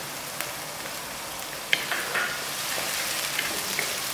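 Two tablespoons of ginger garlic paste go into a pan of hot oil with onions for a sprouts keema. It gives a dense, steady hiss of frying with a few faint pops and clicks throughout.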